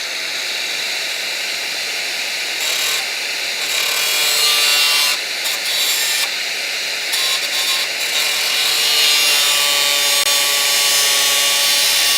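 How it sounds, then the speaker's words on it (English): Grinding wheel biting into rusted metal on a Dodge crew cab truck in a shop, a loud continuous abrasive whine that holds steady for the whole stretch with slight surges in pressure. "we're going to use the grinding wheel, and the grinding wheel is absurdly loud"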